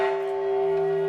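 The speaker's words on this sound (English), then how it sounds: "Secretary-General Antonio Guterres rang a bell to mark the International Day of Peace today" A single bell struck at the United Nations in New York for the International Day of Peace, ringing with a clear, sustained tone that hangs steadily without fading.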